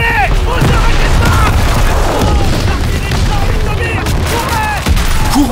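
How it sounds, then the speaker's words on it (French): Call of Duty: WWII battlefield under artillery bombardment, loud repeated booming blasts and crackling gunfire with whistling shells streaking overhead, shouted voices mixed into the chaos. "Courant à l'aveugle sous le pilon de l'artillerie"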